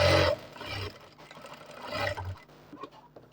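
A sewing machine stitches a shirt (kameez) seam in short bursts of whirring, close and fairly loud, with brief pauses between runs and no talk.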